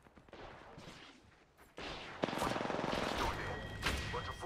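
Bursts of gunfire in a shooter video game, with rapid automatic fire growing louder midway and continuing in dense rattling volleys, mixed with game sounds and faint background effects.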